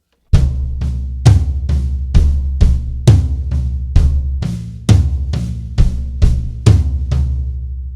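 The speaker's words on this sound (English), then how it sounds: "instead of hitting the 2 and the 4 on the snare, I could hit it on the rack tom" A drum kit beat with the backbeat on 2 and 4 struck on the rack tom instead of the snare, punchy tom hits over a steady kick pattern, loud and close.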